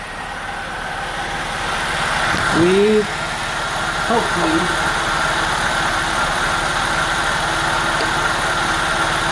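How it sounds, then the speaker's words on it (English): A Saab 9-5's engine idles steadily while warming up, a constant close hum that lasts throughout, with a voice speaking briefly over it near the middle. "now that we let the car warm up for a little while"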